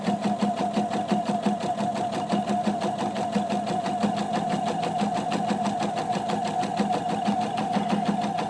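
A sewing machine stitches pintucks with a pintuck foot at a normal stitch length, running steadily and close up with a fast, even mechanical whir and rapid needle ticking throughout.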